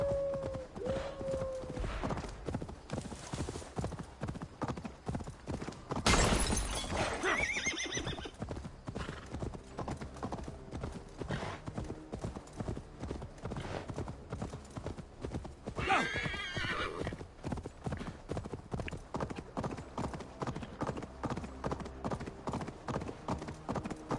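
A horse in the video game Assassin's Creed Valhalla gallops with rhythmic hoofbeats clopping steadily throughout, letting out loud whinnies twice along the way.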